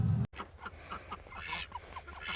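A small flock of backyard ducks quack repeatedly in a busy, overlapping chatter, moderately close and steady, with a brief thump at the start and no talking.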